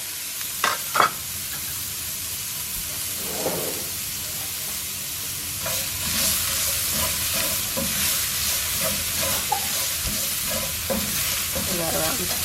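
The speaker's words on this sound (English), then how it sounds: "We're going to saute our shallots" Shallots sautéing in an oven-safe pan such as cast iron, giving a continuous close sizzle with bursts of stirring and scraping, and a couple of sharp clanks near the start.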